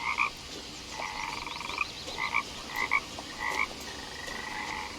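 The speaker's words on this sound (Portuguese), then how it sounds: "Tem sapo." Frogs croak in the video game What Remains of Edith Finch: repeated short croaking calls in loose clusters, fairly close and clear over a quiet ambient background, with no talking.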